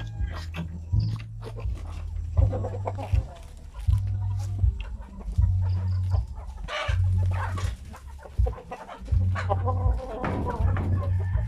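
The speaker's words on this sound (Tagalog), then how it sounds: "At pakainin na rin natin yung ating mga manok." Chickens cluck in bursts while being fed, over a steady low hum, with scattered clatter and a voice talking briefly nearby.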